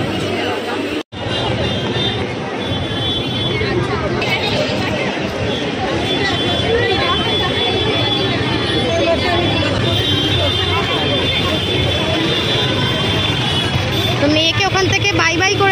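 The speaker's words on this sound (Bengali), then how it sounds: "ট্রেনটা আজকেও ভিড়।" Crowded commuter train in Bengal, a constant loud babble of many passengers talking at once over rumbling carriage noise, with a brief dropout near the start.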